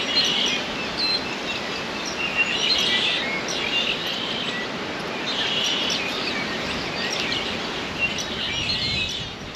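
Birds singing in the sky-island country of Patagonia, Arizona: repeated high chirps and calls over a steady insect and outdoor hiss, fairly close and clear, with no talk.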